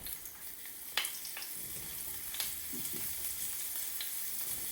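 Floured veal cutlets sizzle in a hot pan as they are laid in, a steady crackling fry with sharp bursts of spatter at the moment each piece goes down, no voices.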